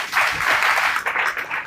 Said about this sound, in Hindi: ताली बजा सकते हैं ना।